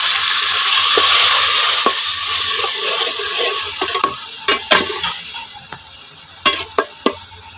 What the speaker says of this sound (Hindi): तो मसाले को आपने अच्छे से इसकी भुनाई करनी है।